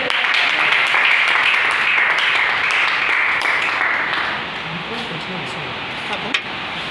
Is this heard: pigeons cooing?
no